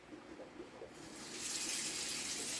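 Water pouring from a tap into a pot while preparing silver bass fish for sinigang, a faint trickle that swells into a steady, fuller gush halfway through.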